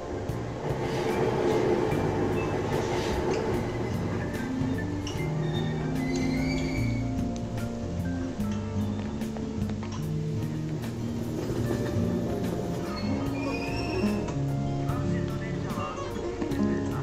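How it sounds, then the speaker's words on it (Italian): Subway train ride on the Ginza line in the video game Persona 5 Royal: a steady rumbling rail hum with rhythmic clatter runs throughout, while someone talks over it. "Allora, saliamo sul treno."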